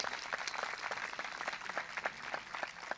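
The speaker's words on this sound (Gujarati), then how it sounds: "અહીંયા અત્યારે આપણે તાળીઓ પાડીએ છીએ" An audience at a religious festival gathering honouring kar sevaks claps steadily and densely, the applause filling the whole stretch at an even, moderately distant level without spoken words.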